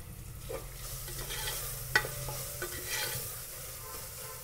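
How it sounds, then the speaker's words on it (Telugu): Ginger garlic paste frying in a pan for chicken pulav, a soft steady sizzle with stirring scrapes and one sharp utensil clink near the middle, close and moderately quiet. "జింజర్ గార్లిక్ పేస్ట్ జస్ట్ ఒక 2 minutes పచ్చివాసన పోయేంత వరకు ఫ్రై చేసుకొని"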